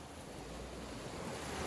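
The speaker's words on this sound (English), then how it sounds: "we got the creek running down below us here, coming from the mountain." A mountain creek rushes below a path near the Pend Oreille River, a steady broadband wash of flowing water mixed with wind noise and no talking.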